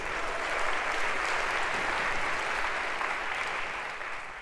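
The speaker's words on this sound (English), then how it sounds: "round of applause for our volunteer" A lecture hall audience at a CS50 computer science class gives a round of applause for a volunteer, dense clapping that is loud throughout and fades slightly at the end.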